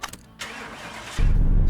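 Dodge Charger engine in Car Mechanic Simulator 2018 cranks briefly, then catches and settles into a loud, steady, close running rumble with no talk over it.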